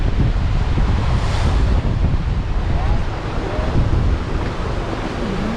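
Sea waves wash onto the white sand beach of Gigantes Island, Carles, Iloilo, a loud, steady surf roar with gusting wind buffeting the microphone throughout.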